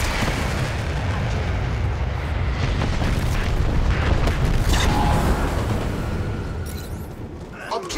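Artillery fire support striking an objective in the shooter game Dirty Bomb, heavy rumbling booms and blasts rolling continuously under voices talking.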